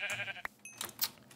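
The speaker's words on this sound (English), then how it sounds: "You're a gray sheep, but I already have three pieces of wool." A gray sheep in the Minecraft video game bleats once, a short nasal cry at the start, followed by faint clicks and brief game sounds, with no talk.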